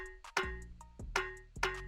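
A dry Mauritius-style snare drum sample without effects hits three times in an Afro beat pattern, sharp close cracks layered over deep bass notes and light hi-hat ticks.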